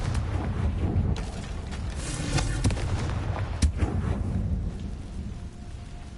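A Confringo fire spell blasts in Hogwarts Legacy with a heavy, crackling boom, set against a steady rumbling storm-like wash and a couple of sharp impacts, loud and continuous.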